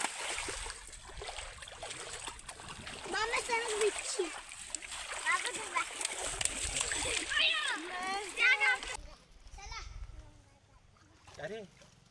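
People jumping into a clear jungle river in the Konkan, splashes and watery churning under lively shouting and chatter from adults and children, the noise dropping off near the end.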